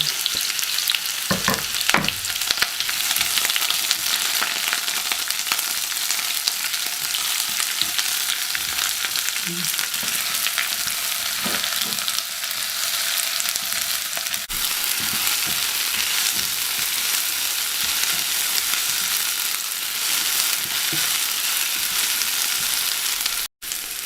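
Red and yellow onions fry alongside leftover pork knuckle, giving a loud, continuous sizzle with occasional stirring clatter close by, and nobody talks.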